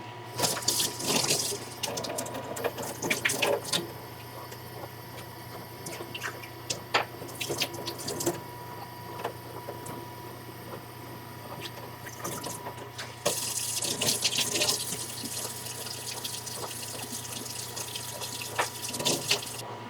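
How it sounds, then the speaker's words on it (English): Tap water runs and splashes while coleus cutting roots are rinsed and containers are filled, a steady hiss of flowing water with small clinks and drips, louder in the last stretch. "It's really just a lot of rinsing out those roots and filling up the containers."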